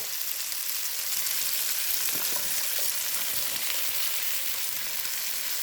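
Sweet pepper and okra sizzle and fry steadily in a hot pot, a continuous close hiss with faint crackles and a few soft stirring knocks.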